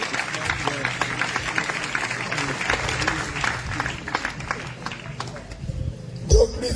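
A church congregation in Grand-Bassam applauding and cheering in acclaim of Jesus Christ, a lively crowd of clapping under overlapping voices and shouts, with a sharp thump near the end.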